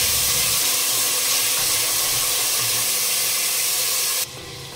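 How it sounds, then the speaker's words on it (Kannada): Chopped tomatoes frying in oil for a Karnataka vegetable sambar, with a loud, continuous steamy hiss that drops in level near the end, with no talking. "ಇದನ್ನು ಕೂಡ ನೀಟಾಗಿ ಎಣ್ಣೆಯಲ್ಲಿ ಫ್ರೈ ಮಾಡ್ಕೊಳ್ಳೋಣ."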